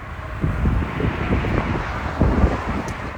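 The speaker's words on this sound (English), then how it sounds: "Got all windy out here." Heavy wind buffets the microphone in low, rumbling gusts, a continuous blustery roar with no voices.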